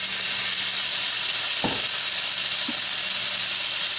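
Bacon frying in a large deep skillet over medium heat, with a steady broadband sizzle throughout and one brief thump of the pan partway through; no talking.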